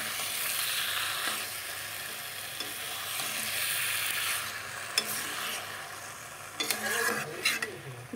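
Mixed vegetables sauté with spices in a pan, giving a continuous loud sizzle with stirring scrapes and a few clinks of a utensil against the metal toward the end.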